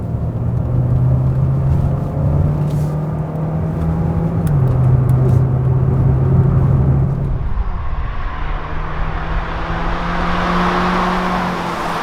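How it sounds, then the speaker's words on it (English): A 2020 Hyundai Sonata hybrid, eighth generation, drives in sport mode, its steady engine drone and road noise heard from inside the cabin, the tone dropping and shifting partway through as it changes pace, with no talk. "Let's put the car into sports and drive."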